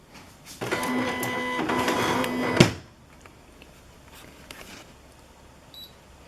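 Home printer running a copy, a steady mechanical whir and hum lasting about two seconds that ends in a short clunk, followed by quiet room noise.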